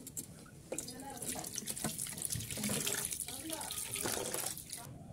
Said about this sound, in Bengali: এখন আমরা ডিমগুলোকে ধুয়ে নিব ভালোভাবে